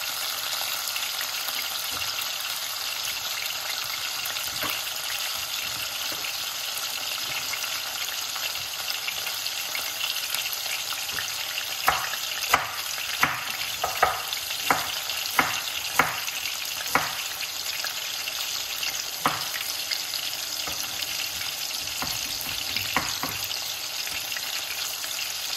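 Cabbage cooking in a pot: a continuous fizzing sizzle runs throughout, joined midway by a burst of sharp clicks and taps from stirring, steady and close.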